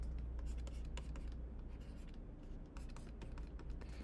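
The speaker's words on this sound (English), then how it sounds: "Let me write those down." Pen scratching steadily on paper while someone works through an algebra exam review problem, a continuous faint scribbling with a low hum beneath and no voice over it.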